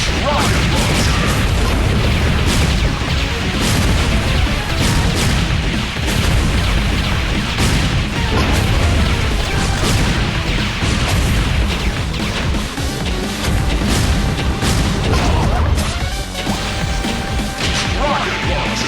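Rocket launcher blasts in the Metal Slug mobile game crash and boom one after another in a dense, loud run of explosions, whooshes and impacts over constant game noise.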